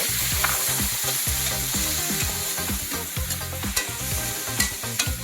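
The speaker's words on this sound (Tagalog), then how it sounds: "Natin po yung kawali. Ilagay agad natin yung ating pork." Pork frying in a wok with garlic and onion for a mixed vegetable stir-fry: a loud, continuous sizzle dense with rapid scraping and clattering from vigorous stirring, heard up close without speech.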